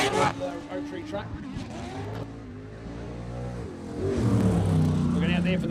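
Pro 4 off-road racing truck, a championship-winning machine, roaring around a short-course dirt track with a loud, steady engine drone that rises near the end, while a commentator talks over it.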